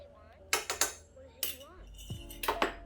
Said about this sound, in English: I'm just using a fork. We're just gonna stir those together real good.